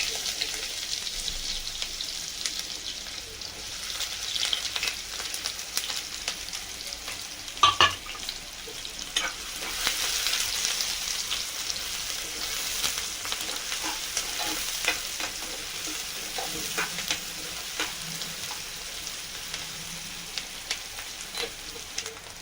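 Sliced onions hit a hot kadai of oil and fry with a continuous close sizzle, with occasional stirring clatter and a sharp knock near the middle, and no voices.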